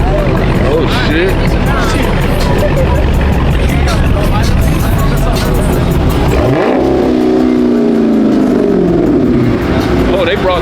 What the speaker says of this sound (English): do a burnout real quick, Alex.